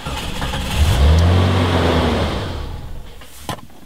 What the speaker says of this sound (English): The Jeep will start,